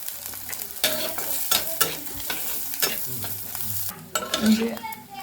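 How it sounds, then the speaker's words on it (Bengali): Vegetables fry in a pan for a dried-fish and bean-seed dish, with loud, repeated stirring scrapes over a steady sizzle, close and clear. "ভেজে নিচ্ছি একটু লাল করেই ভেজে নেব সবজিগুলো"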